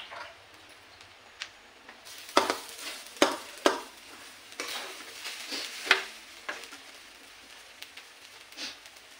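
Diced potato goes into a pan of cooking sabudana khichdi and gets stirred, with a soft frying sizzle under repeated scraping and clacking strokes of the spoon, some sharper knocks, no talking.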